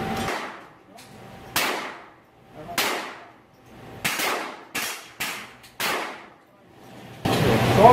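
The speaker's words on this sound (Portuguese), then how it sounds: "vamos dar um tiro com munição 762" Rifle gunshots with 7.62 ammunition at a shooting range, several loud sharp reports spaced about a second apart, each with a decaying echo tail, close to the listener.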